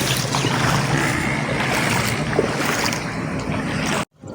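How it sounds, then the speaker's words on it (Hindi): Floodwater in Pakistan churns and rushes loudly and steadily around a person standing in it, a dense wash of moving water that cuts off abruptly near the end. "ये पूरा पानी है, पानी में जा रहे हैं ये बंदे सारे।"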